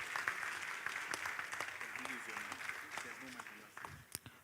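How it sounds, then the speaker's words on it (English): An audience at an emerging markets economics forum applauds an introduced speaker, a soft, distant spread of clapping with a few sharper claps and some voices under it. "Please, a round of applause for him."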